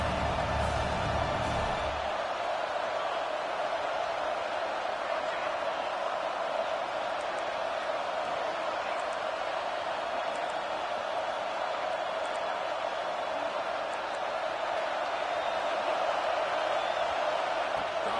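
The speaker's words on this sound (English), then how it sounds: "This crowd is trying to inspire his defense to make a big red zone stop." Stadium crowd noise in the College Football 26 video game during an Ohio State versus Georgia matchup, a steady roaring wall of sound sustained at constant loudness throughout, with no distinct talk.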